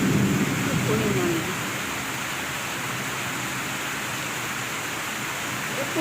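Rain falling steadily in Chandpur, Bangladesh, a dense even hiss that stays constant throughout, with a brief faint voice near the start.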